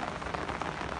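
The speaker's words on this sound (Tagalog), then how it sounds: "Dahil talagang umuulan." Rain falls steadily on an organic vegetable garden with okra plants during the rainy season. It makes a dense, close, even hiss of drops throughout, with no voices.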